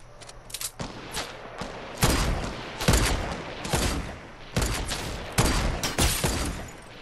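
Gunfire in the video game Fortnite: sharp, separate shots and short bursts crack out at uneven intervals, loud and close, with no talk over them.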